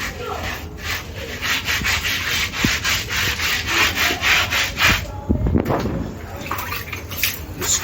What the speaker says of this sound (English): Just scrub the walls of the pond.